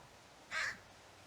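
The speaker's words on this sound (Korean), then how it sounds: "까마귀가 제 근처에서" A single crow caw in The Forest survival game, one short rasping call at moderate distance over a quiet background, with no talk.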